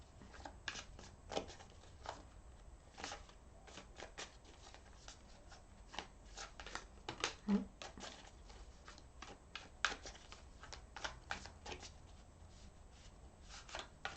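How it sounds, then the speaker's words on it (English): Tarot cards being shuffled by hand during a full moon reading, a steady run of soft riffling and slapping card sounds with brief sharper snaps, close and alone with no talking. "Excuse my shuffle, guys."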